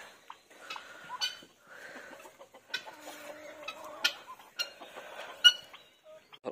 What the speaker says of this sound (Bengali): এই দুইটাই কিন্তু মুরগি